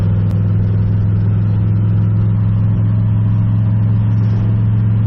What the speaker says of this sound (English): The engine runs really good in this thing